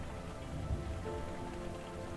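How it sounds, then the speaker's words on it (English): Rain falling steadily on surfaces outdoors, a dense even patter with occasional nearer drops, moderately quiet and continuous. "The rain got heavier,"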